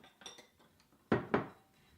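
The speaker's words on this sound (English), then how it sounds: "Oh, it's being whisked up." A whisk stirs pancake batter in a bowl with a few soft taps followed by two louder metallic clanks against the bowl, close by.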